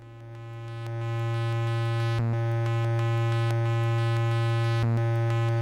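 A steady, buzzy modular synthesizer drone holds one low note from a single VCO, swelling in, with brief regular glitches in the tone every couple of seconds as an LFO through a binary counter modulates it.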